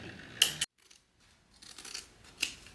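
Scissors snip through fabric stabilizer during quilted bag making, with a couple of sharp close cuts, a pause of near silence, then softer rustling and another faint snip.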